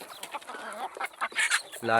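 Country chickens clucking and calling in a small enclosed backyard coop, a mix of short clucks and brief squawks at close range, with a voice talking over them.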